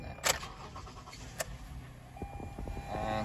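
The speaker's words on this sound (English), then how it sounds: "Now we're gonna try to start the car now." A 2019 Toyota Highlander starts after a couple of faint clicks, the engine catching and settling into a low, steady idle, heard close up and fairly quiet.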